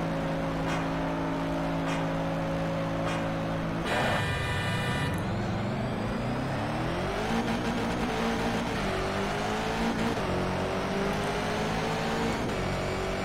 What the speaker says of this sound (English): I kind of went half throttle when I launched it this time around